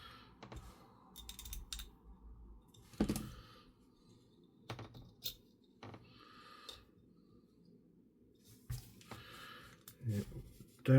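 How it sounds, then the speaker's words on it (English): Small PWM screws being driven into a Fanhome Mighty Morphin Power Rangers Megazord model kit, giving close, irregular clicks and scraping ticks in short bursts against a quiet background. "Take two of the smaller PWM screws and screw it into place"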